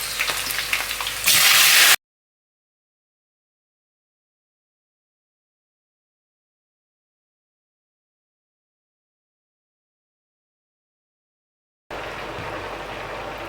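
Tomato frying in a pan for spinach meatballs gives a steady, hissing sizzle for about two seconds before a long stretch of silence, then a softer, even frying hiss resumes near the end.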